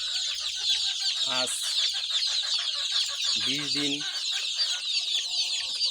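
Fayoumi and local chickens with their 20-day-old chicks cluck and cheep continuously at close range, with a few louder hen clucks standing out and someone speaking briefly over them.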